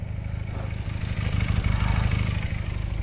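A motorcycle engine runs steadily after battery and alternator trouble, a loud close idle with a constant low throb throughout and no talking.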